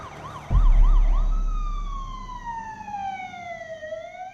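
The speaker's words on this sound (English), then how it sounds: "they could hear the sounds of the ambulances making their way toward their house" A wailing ambulance siren sweeps up and down, then settles into a long falling tone, loud and fairly close, with faint traffic rumble beneath.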